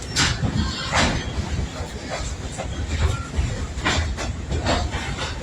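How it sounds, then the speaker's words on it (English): A tourist railroad train rumbles along the tracks in the open air, with rhythmic clacking of wheels and bursts of hissing over a steady loud roar. "So this is called a tourist railroad."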